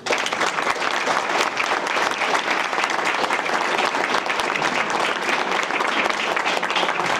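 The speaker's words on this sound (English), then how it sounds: "Give yourself an applause." Audience at a mayoral and city council candidate forum applauding themselves, a loud, dense wash of clapping from a large crowd that holds steady throughout.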